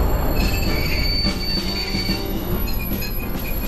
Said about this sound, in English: our train is coming with a single car.